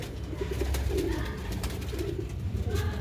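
Pigeons, black-faced Sialkoti birds, coo softly in short repeated low phrases close by, with steady background hum and no talking.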